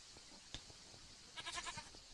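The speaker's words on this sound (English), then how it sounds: "A goat." A Minecraft goat bleats in a quick run of wavering, nasal cries near the end, following a few scattered clicks and soft game noises.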